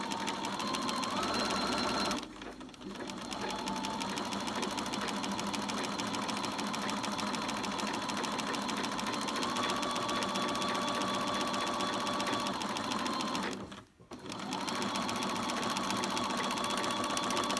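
A sewing machine runs steadily, stitching beret pieces together in a long continuous whir with two brief pauses, close and fairly loud.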